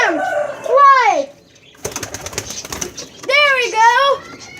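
A pet pigeon's wings flap in quick bursts as it takes off, close by, interleaved with a person's excited, high-pitched talking before and after.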